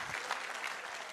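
Congregation applause at a church service, a steady dense clapping from a crowd that holds even and sustained throughout, with no speech over it.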